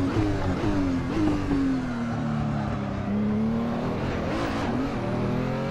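A Renault R.S. 0.1 race car in Assetto Corsa laps the Nürburgring, its engine droning loud and close, the pitch rising and dipping through gear changes and corners without a break, with no talking.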